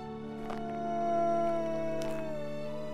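Mexican gray wolves howl in the wild, a sustained tonal call holding a steady pitch and swelling slightly before tapering, with faint overlapping voices in the background.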